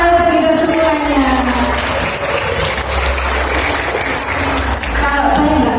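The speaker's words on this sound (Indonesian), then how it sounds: "Tepuk tangan untuk kita semuanya." Crowd applause at an Indonesian primary school gathering, loud and sustained clapping from a large group filling the whole stretch, with some crowd noise mixed in.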